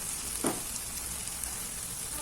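Chicken pieces fry in a hot pan, giving a steady, even sizzle that fills the whole moment at low level, close up and constant, with no voices over it.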